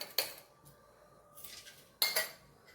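A pot and utensils clink while eggs are set to boil in salted water, with a few quiet, sharp metallic clatters spaced apart and near, with no talking.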